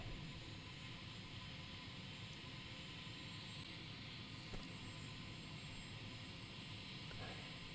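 Airplane engine in Microsoft Flight Simulator on a short, difficult final approach and landing, a steady broadband drone that holds loud and unbroken throughout, with a faint brief click partway through.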